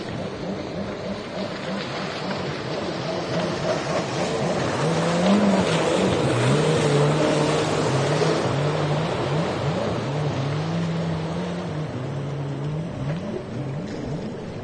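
A mud boat engine roars close and loud at the Mudbug Nationals race in Morgan City, Louisiana, its pitch climbing and holding steady as the boat races past over water, with faint commentary underneath.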